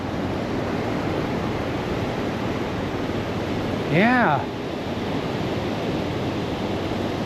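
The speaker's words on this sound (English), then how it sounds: "Boy, that water's rough" Rough sea waves break on a beach in Vietnam as a continuous loud roar of surf and wind, with a single short spoken word partway through.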